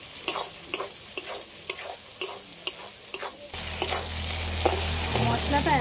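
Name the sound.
masala frying and stirring in pan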